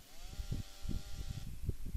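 A chainsaw revs in GTA San Andreas: a droning engine tone opens, then choppy, rhythmic bursts of grinding cut in and out at close range.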